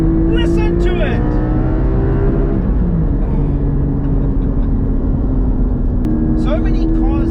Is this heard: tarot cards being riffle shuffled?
no